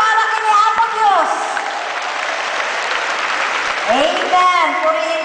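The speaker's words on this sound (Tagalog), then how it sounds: "Napigsa ang palakpak para kini Apo Diyos." Loud congregational clapping at a church thanksgiving fellowship in Pangasinan, Philippines, steady and sustained, with voices calling out and cheering above the applause at the start and end.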